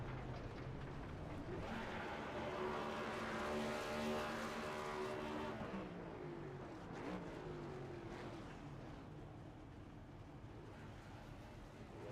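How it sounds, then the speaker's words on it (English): A race car in a racing game does championship burnouts in the grass at Kansas, its engine roaring loud and sustained with rising and falling revs before easing off toward the end. "He's already doing the burnouts in the grass for his championship"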